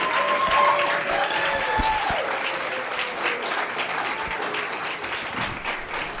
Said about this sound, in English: Mr. Nuruddin Farah deserves an Ake special applause